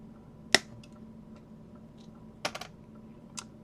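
Snips cutting a 3-pin female header strip for an ESP8266 clock controller, a single sharp snap close by, then a few lighter clicks and taps in a quiet room.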